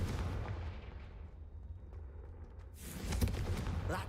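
A Confringo fire spell blast in a Harry Potter video game set somewhere hot, heard as a rumbling, booming burst of explosive noise that swells toward the end, loud and close with no talk over it.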